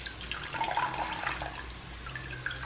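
Water trickles and drains as arrowroot pulp is squeezed through cloth, a faint, uneven splashing and dripping close by.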